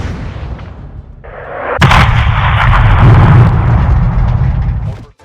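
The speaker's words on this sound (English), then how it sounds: "The 105mm cannon hits," Heavy 105mm cannon fire in a Call of Duty mission: a huge blast around two seconds in erupts into a long, loud roaring rumble that sustains for several seconds before cutting off, with a lighter burst just before it.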